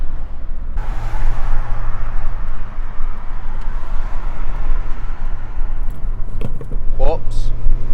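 A K11 Nissan Micra with a 60 bhp engine drives along, its low steady engine drone and road rumble close and loud throughout, with a few brief knocks and squeaks near the end.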